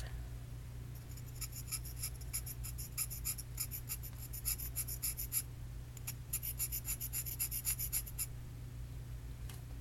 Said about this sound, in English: next you're going to take your pastel, my X-Acto knife